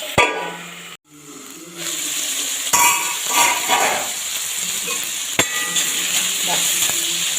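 Beef sizzling in a covered pan over a medium flame, a steady loud frying hiss with a few sharp clinks of the lid and utensils.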